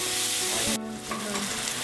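Butter melting and sizzling in a pan while cooking a Philly cheesesteak, a loud, close, continuous crackling hiss that dips briefly then carries on.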